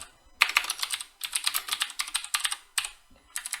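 Code is typed on a computer keyboard in close, crisp bursts of rapid key clicks separated by short pauses.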